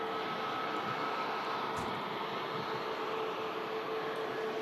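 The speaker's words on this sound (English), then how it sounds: "we switch across to the TUI Dreamliner, and that's heading out to Montego Bay." TUI Boeing Dreamliner departing Manchester Airport for Montego Bay, a moderate, continuous jet rumble with a faint steady tone running through it, heard alone without talk.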